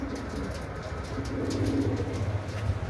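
Pigeons coo in a low, steady murmur against continuous background noise and faint clicks, with no clear voices.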